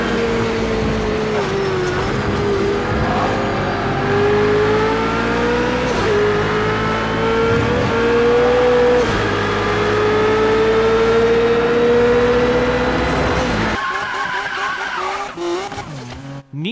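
Race cars in Project Cars 2 rev hard with rising and falling engine pitch and screeching tire skids, loud and close throughout, before the engine note suddenly drops away near the end.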